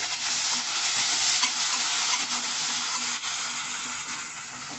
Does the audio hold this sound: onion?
yes